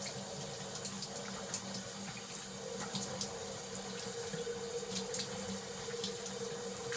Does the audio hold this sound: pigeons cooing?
no